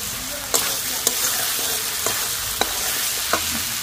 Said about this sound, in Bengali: এই টমেটো ক্যাপসিকাম সব ভালোভাবে ভাজা হয়ে সেদ্ধ হয়ে গেছে। এর মধ্যে আমি দিয়ে দিচ্ছি এবার ডিমটা।